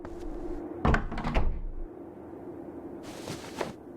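A glass door in the horror video game Obscure is tried and rattles, with a couple of heavy thumping knocks early on, then quieter ambience and a later clatter, with no voices.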